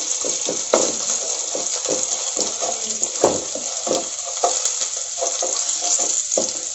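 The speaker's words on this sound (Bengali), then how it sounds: "এবার এটাকে একটু ভাজা ভাজা করে নিই।" Chopped ginger and green chilli fry in a pan, giving a loud, steady sizzle close by with frequent bursts of crackling and stirring scrapes.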